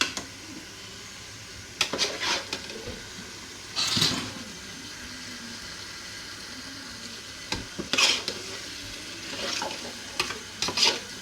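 Plantain porridge stirred in a pot at home, with a few scraping and sloshing stir bursts spread over a low, steady background, close by and with no talking.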